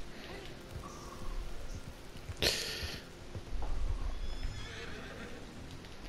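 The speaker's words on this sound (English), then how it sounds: "Horse is no liking this and it's chucked us off." In the video game Red Dead, a horse whinnies sharply once amid steady background noise, followed by a burst of hooves galloping.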